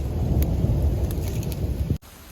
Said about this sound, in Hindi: बारिश अच्छी है लेकिन ये गड़गड़ाहट, ये बिजली है